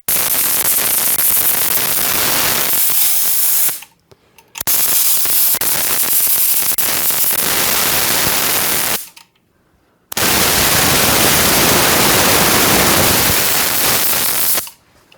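Tilswell Pinto paint sprayer spraying clear coat in three loud, steady bursts of hissing spray, cut by two short pauses near four and nine seconds.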